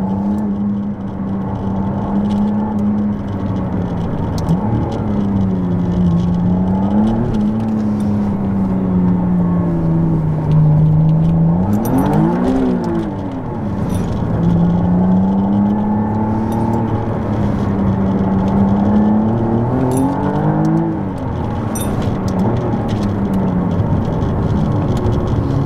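A McLaren Artura hybrid supercar accelerates through repeated gear changes, its engine drone rising and dropping in pitch again and again, loud and steady from the cabin with no voices.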